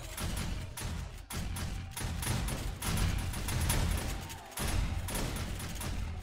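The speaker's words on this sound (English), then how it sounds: "Man, guns are going off everywhere" Rapid gunfire from a horde night in the video game 7 Days to Die, with Alpha 16 builds: dense overlapping shots and thuds that keep up almost without pause for several seconds.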